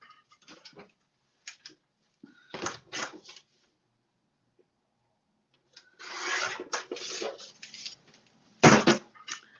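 Cardstock being trimmed for a stenciled card, a few short dry scraping and rasping strokes separated by pauses, close and quiet, with one longer cutting pass and a sharper final snip.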